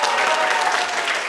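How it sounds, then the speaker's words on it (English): A TEDx audience claps together, a dense, steady and loud wash of applause with no break. "Clap your hands if you love TEDx ISPH"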